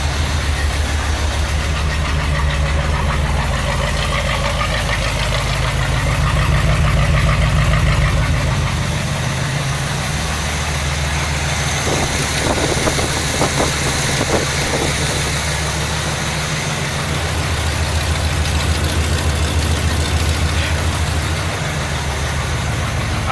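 A 1972 Corvette engine idling steadily after a long layoff, a low continuous rumble close by with slight swells in pitch, brief faint clicks midway, no voices.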